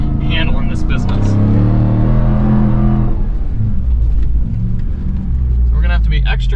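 A 2021 Ram TRX truck drives hard on sand dunes in Baja mode at Silver Lake off-road park, a loud close engine drone and rumble under ongoing talk, with the engine note shifting midway.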